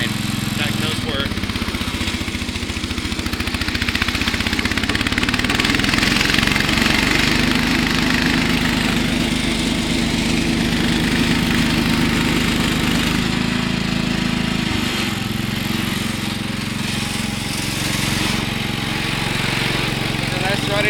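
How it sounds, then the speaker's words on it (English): Cub Cadet 129 lawn tractor engine running steadily and loud throughout, a continuous rough drone that shifts slightly in pitch midway, with someone talking over it. "It's a nice running engine."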